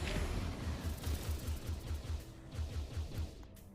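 A green weapon in the VR shooter Overload fires a fast, steady burst of many projectiles, a continuous rattling volley with pulsing low thumps over a dense, noisy backdrop, without speech.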